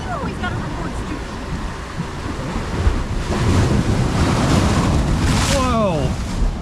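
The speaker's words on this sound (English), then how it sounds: "we're waiting on these waves to come in" Ocean surf rolls in at a Florida beach in Hobe Sound, a steady loud wash of breaking waves with gusty wind buffeting the microphone, swelling louder midway and holding near and continuous.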